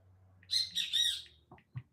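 Great kiskadee calling loudly nearby, a shrill burst of squawking notes followed by two short clipped chirps, with no other sound over it.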